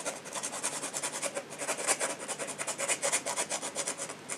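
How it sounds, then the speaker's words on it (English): Steady rhythmic rasping of a hand file scraping back and forth across hard plastic, close up, with quick repeated strokes and no talking. "kind of razor blade away the middle, and get a file going"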